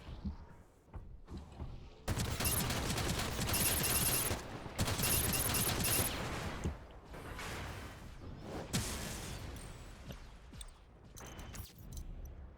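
Automatic gunfire from a recoiling gun in the video game Gundam Evolution, two dense sustained bursts of rapid shots followed by quieter mechanical clanks and short shots, loud and close, with no talking.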